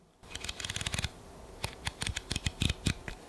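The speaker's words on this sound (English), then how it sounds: "the other thing I want to show you is how clicky the aperture ring is" The aperture ring on an older Fujinon 18mm f1.4 lens is turned, giving a quick run of crisp, close clicks in two bursts, heard alone and fairly quiet.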